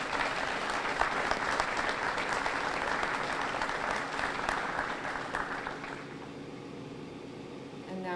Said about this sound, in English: want to show them the round of applause they deserve?